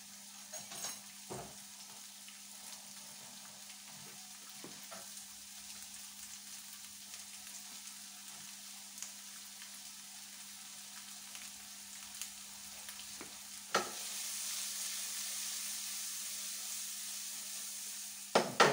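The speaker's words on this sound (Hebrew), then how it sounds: "אחר שהשמן יתחמם אני מוסיף אליו בצל גודל בינוני קצוץ" Chopped medium onion frying in a tablespoon of hot oil over medium heat, a faint steady sizzle with occasional soft clicks of a spoon, rising to a louder hiss near the end, no voices.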